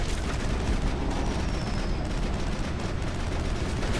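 Assault rifle fire from the Mass Effect game rattles on continuously, dense and loud, with crackling bursts layered over a steady rumble of combat noise.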